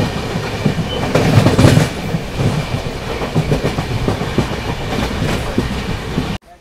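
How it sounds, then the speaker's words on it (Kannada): A Hubballi–Bengaluru Jan Shatabdi Express train pulls into Tiptur railway station with a steady, loud rumble and rhythmic clickety-clack of wheels on rails, close by and continuous until it cuts off abruptly near the end. "ಈ ಸದ್ಯಕ್ಕೆ ನಮ್ಮ ಜನಶತಾಬ್ದಿ ತಲುಪಿದೆ ತಿಪ್ಟೂರು ರೈಲ್ವೆ ಸ್ಟೇಷನ್ಗೆ"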